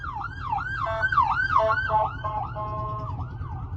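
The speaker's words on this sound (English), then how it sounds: "Someone pulled right out in front of that ambulance" An ambulance siren wails past with rising and falling sweeps, loud and close, over steady low traffic rumble.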